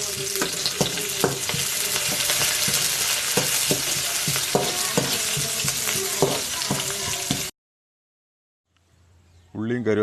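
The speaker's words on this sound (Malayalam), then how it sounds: "കറിവേപ്പില ഇട്ട് കൊടുത്തു നന്നായിട്ട് മൂപ്പിച്ചെടുക്കാം." Curry leaves fry in hot oil in a pan for Palakkad chicken kuruma, producing a loud continuous crackling sizzle with rhythmic stirring clinks, which then cuts to silence before a voice begins speaking.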